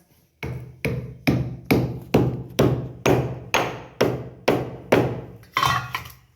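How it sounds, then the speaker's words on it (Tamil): Roasted dry ginger pounded on a stone for a dry ginger and coriander coffee powder, ten sharp, evenly spaced thuds close up, each with a short ringing decay, and no talking. "நான் இந்த கல்லில் போட்டு கொஞ்சம் தட்டிக்கிடுறேன்"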